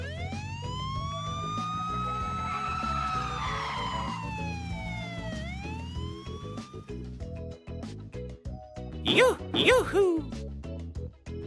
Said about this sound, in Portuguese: Um carro de polícia.